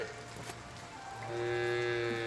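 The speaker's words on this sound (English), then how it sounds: "Man, those cows are loud." Cows in the Foundation village-building game moo loudly and close by, one long drawn-out low bellow swelling in the second half over a faint ambient background.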